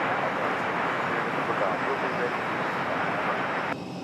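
An Aer Lingus airliner landing at Raleigh-Durham gives a loud, steady broadband jet roar that holds at full strength and then drops slightly near the end, with no talking.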